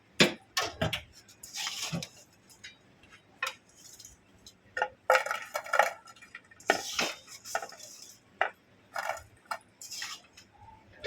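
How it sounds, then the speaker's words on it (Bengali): Murali sweets served onto a plate, heard as scattered light clinks and taps of utensils against dishware, close and fairly soft, with quiet pauses between the knocks. "আমি এবারে প্লেটে সার্ভ করে নেব।"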